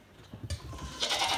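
Baby goats bleat on a farm, one short call followed by a louder, brighter sustained bleat, close and clear over faint background rustle.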